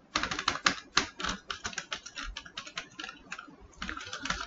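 Rapid typing of code on a computer keyboard, close and crisp, with irregular bursts of key clicks and brief pauses between runs of keystrokes, with no voice over it.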